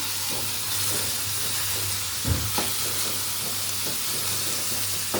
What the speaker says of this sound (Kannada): ಇದನ್ನ ಇವಾಗ ಇದಕ್ಕೆ ಹಾಕ್ತೀನಿ ಈರುಳ್ಳಿ ಬೆಂದ ನಂತರ ಟೊಮೆಟೊನ ಹಾಕಿದ್ದೀನಿ